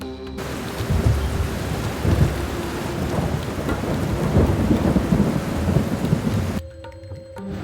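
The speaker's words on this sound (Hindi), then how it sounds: "कई दिनों तक बरसात होती रही।" Heavy rain pours in a dense, steady roar with deep rumbles of thunder rolling underneath, holding loud and continuous for several seconds before cutting off abruptly near the end.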